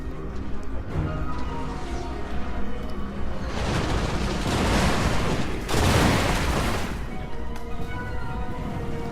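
Units open fire in a Total War: Warhammer 2 battle with Dark Elves, a loud rolling fusillade of gunfire and booms swelling mid-way over a constant din of battle noise.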